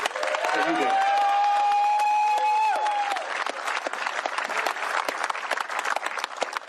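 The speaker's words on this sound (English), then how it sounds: "a round of applause" Loud, close applause from an audience at a governor's bill signing, with a whistle-like cheer rising early, then sustained clapping for several seconds.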